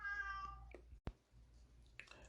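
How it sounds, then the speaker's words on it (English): A house cat gives a clear meow near the microphone, then a short click and a fainter second call in an otherwise quiet indoor room. "my cat is saying hi."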